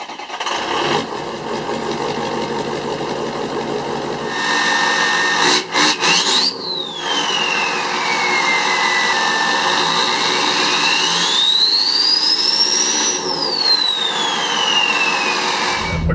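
A Ford F350 Powerstroke turbo diesel truck runs with a loud, steady idle as a high turbo whistle sweeps up and down twice, over a few short clunks.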